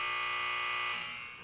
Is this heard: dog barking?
no